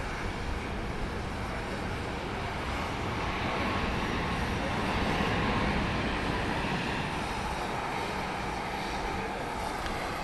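Jet engine roar from a plane at Dallas Love Field, a flight from New Orleans, forms a broad steady rumble that swells slightly midway and then holds, with no clear talk over it.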